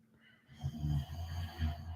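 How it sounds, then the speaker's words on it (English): A sleeping dog snores faintly in a quiet room, a soft rumbling snort building after a moment of near silence, then a second low breath a little later. "You guys might hear my dog snoring in the background."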